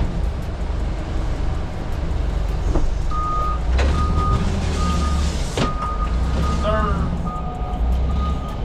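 A truck pulling in gives out evenly spaced reversing beeps over a loud engine rumble, with a passing vehicle swish and a brief squeal near the end while people talk nearby.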